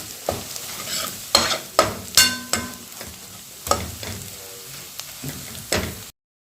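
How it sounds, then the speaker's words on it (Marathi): Spice masala and garlic roasting in a pan, stirred with a utensil that scrapes the pan in repeated, fairly loud strokes over a steady frying sizzle, with no voices. "हा मसाला एक दोनच मिनिट भाजून दिला भाजलेलं लसणाचा वास उपर्यंत भाजून द्यायचं"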